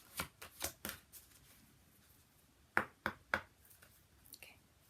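Oracle cards being shuffled by hand, quiet and close, in several short bursts of papery riffling and clicks separated by brief pauses.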